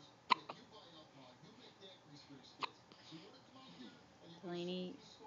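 A little girl hiccups twice in a quiet room, with sharp isolated catches a couple of seconds apart, followed by soft murmuring and a brief vocal sound near the end.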